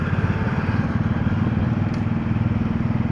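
A 250cc cruiser-style beginner motorcycle runs steadily nearby at a tractor and gas engine show, its loud engine pulsing in an even rapid throb with no talk over it.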